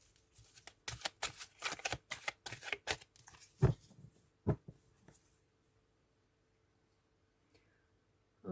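Tarot cards are shuffled by hand in a series of close, crisp riffles and taps, then a few soft placements before falling quiet.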